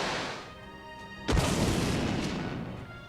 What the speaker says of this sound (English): the heavy door slams shut behind us with a merciless thud